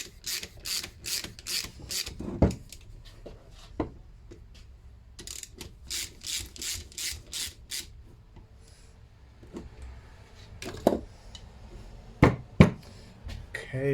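A torque wrench ratchets in quick bursts of sharp mechanical clicks, close and fairly loud, with pauses between runs of turning and a few heavier knocks, with no talking.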